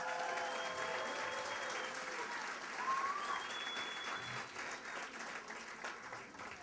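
A community café event audience applauds steadily for the full stretch, a dense wash of clapping at moderate distance with faint crowd murmur and a few whistles mixed in.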